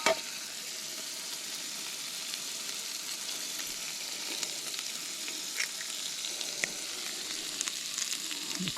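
An egg fries in a pan over a charcoal camping stove, giving a steady close sizzle with scattered crackles and pops that continue throughout.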